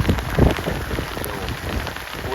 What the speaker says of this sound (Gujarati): ફૂલ પવન અને વરસાદ વધી ગયો છે